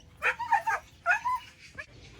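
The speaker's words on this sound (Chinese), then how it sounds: "你們看，這山上拴了好幾條狗子" Several dogs tied up on a mountainside bark and yip in two close bursts of sharp, whining calls, followed by a briefer single yelp, moderately near with no voices.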